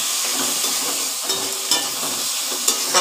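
Onion and garlic paste frying in a pan sizzles steadily and close up, with a few brief scrapes of stirring breaking through the hiss; no talking.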